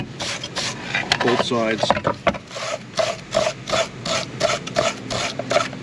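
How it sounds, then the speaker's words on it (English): A brush scrubbing a brake caliper bracket wet with brake cleaner, making rhythmic, close raspy strokes in quick repeated bursts while someone talks over part of it. "Hit it with the brush again,"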